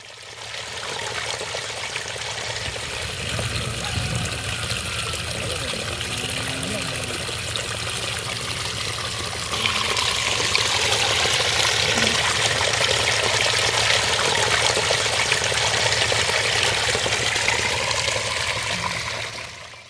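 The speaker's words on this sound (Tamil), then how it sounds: "ஆழ்துளை கிணற்றிலிருந்து தானாக வெளியேறும் தண்ணீர் விளைநிலங்களுக்கு வழிந்தோடியது" Water flowing freely out of an unused borewell and spilling across farm fields, a steady broadband rush that grows louder and brighter about halfway through, continuous and fairly close.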